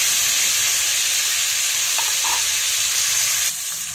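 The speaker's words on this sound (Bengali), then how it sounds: "এবার সুন্দরভাবে ভেজে নেব।" Chicken pieces frying in a pan for chicken egg fried rice give a steady, loud sizzle that runs the whole time, with a couple of faint knocks midway.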